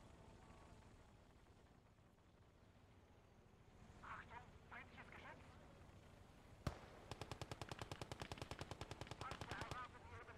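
Machine gun fire in the World War II strategy game Call to Arms - Gates of Hell on the Eastern Front: a sharp single shot, then a long rapid automatic burst, over quieter distant battle ambience and scattered short pops.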